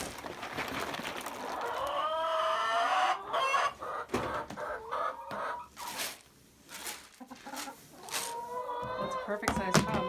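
Hens inside a coop with wood shavings cluck and squawk in a busy, uneven chorus beside a chicken feeder, several birds close by with rising calls and short bursts, some overlapping and fairly loud.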